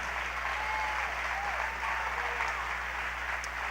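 A church congregation claps in sustained, even applause, heard at a moderate distance over a low steady hum.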